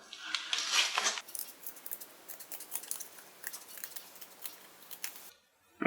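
Metal snips cut a repair piece for a VW Bus pillar, with a loud bright snip first and then a run of quieter, rapid clipping cuts close to the microphone.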